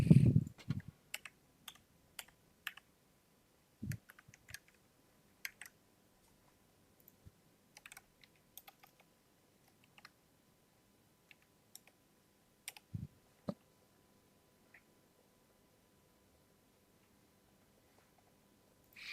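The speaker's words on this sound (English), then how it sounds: "record my keystrokes" Keystrokes on a computer keyboard click in sparse, irregular bursts with long quiet gaps, faint and close in an otherwise silent room.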